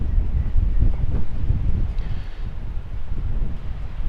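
Strong wind buffets the microphone in a steady, loud roar with gusty low rumbling during a drone flight test in 40 mph winds, with no voices.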